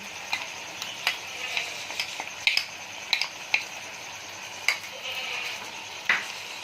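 Green chili paste with ginger paste frying in a pan for chicken green karahi, a steady sizzle broken by sharp scrapes and clinks of a spoon stirring against the pan, no voices.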